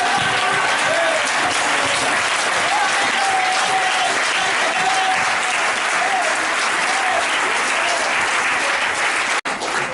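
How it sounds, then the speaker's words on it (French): A church congregation claps loudly and steadily for the Lord in a sustained wash of applause, with faint voices and cheers mixed in near the end and a sudden brief cut just before it stops. "On peut donner une belle acclamation pour notre Seigneur"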